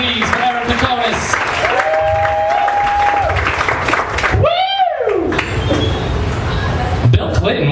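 An audience at a comedy semi-final show claps and applauds under loud, overlapping speech, with a steady wash of hand claps throughout.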